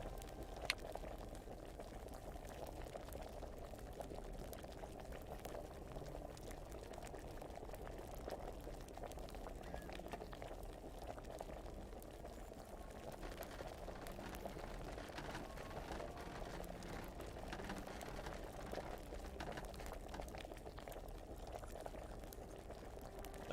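An alchemy brew boils in a pot inside the Kingdom Come: Deliverance game, a quiet, continuous bubbling burble that stays even and low for the whole stretch with no talking.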